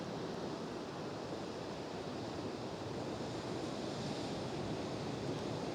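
Steady, dense wash of ocean surf rolling onto a sandy, rocky shore, a constant broadband roar with no clear breaks, heard alone without voices.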